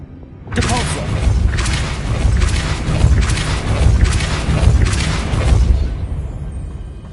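Depulso spell cast in Hogwarts Legacy: after a brief quiet start, a loud sustained magical force blast with repeated heavy booming thumps and crashing for several seconds, then fading out.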